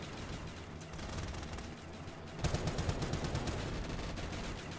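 Sustained HK21 machine gun fire in Black Ops 3 zombies mode, rapid dense bursts under a constant wash of game noise, growing louder and more continuous in the second half.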